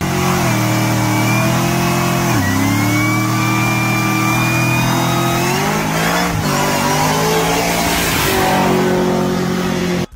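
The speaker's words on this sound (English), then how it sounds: "when you leave, you have to leave a burnout. You gotta lay some rubber on the ground." A Mustang at a KRW Performance meet does a burnout on pavement, its engine revving hard and steady for about ten seconds with pitch rising and dipping, loud and close throughout.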